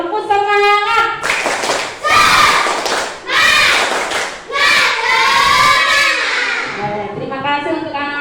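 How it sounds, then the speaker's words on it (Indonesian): Children in a classroom clap together in a lively rhythmic burst for their teacher, sharp hand claps mixed with loud young voices shouting and chanting throughout. "boleh tepuk tangan dulu untuk kita hari ini. Silakan tepuk semangat"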